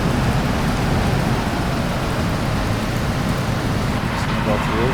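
Rain falls steadily in the driving game BeamNG.drive, a dense constant hiss of drops with low rumbling underneath, loud and unbroken throughout.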